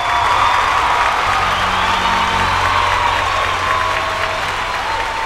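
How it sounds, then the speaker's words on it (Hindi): An audience at a Bhojpuri music competition show claps steadily to welcome a female contestant onto the stage, a dense, even wash of applause that carries from start to finish under a sustained musical tone. "जोरदार ताली बजा के स्वागत करी"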